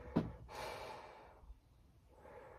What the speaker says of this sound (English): Now I'm breathing.